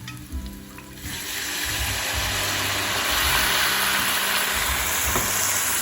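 About three quarters of a cup of Italian red wine poured over vegetables in a hot pan. A quieter sizzle at first jumps into a loud, steady hiss and bubbling that continues to the end.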